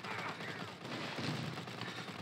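Rapid automatic gunfire from the mobile shooter Modern Ops, with the DP12 shotgun in play, crackling steadily and densely through the whole moment at mid distance with no talk.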